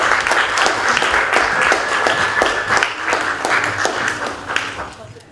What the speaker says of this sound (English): Can we give all our presenters a round of applause?